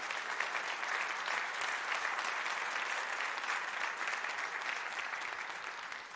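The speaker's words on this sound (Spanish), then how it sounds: "Dele un fuerte aplauso a la gloria del Señor." A church congregation gives a long round of applause during a Spanish-language sermon, a soft, steady and distant patter of many hands that fades slightly toward the end.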